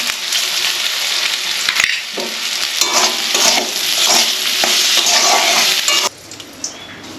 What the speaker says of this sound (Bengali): মুগের ডাল হয়ে গেল দুটোই ভেজে নিচ্ছি